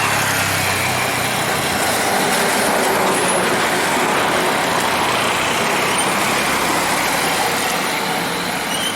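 A metro train runs steadily on rails near Tripunithura, a continuous loud broadband rumble with rolling wheel noise and no speech, recorded from on board.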